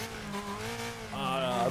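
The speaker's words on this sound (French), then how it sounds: "Oh putain, je fais des donuts. Au milieu de la piste." Tires squeal continuously as a car spins donuts in the middle of the track in Wreckfest, a wavering, rising screech with engine drone beneath, getting louder toward the end.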